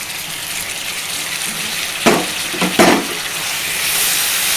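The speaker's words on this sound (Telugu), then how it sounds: "ఇప్పుడు టమాటా ముక్కలు వేసుకోవాలి" Tomato pieces drop into a hot pan for a budam kaya tomato curry, bringing a couple of brief sizzling bursts over a steady frying hiss, close and without speech.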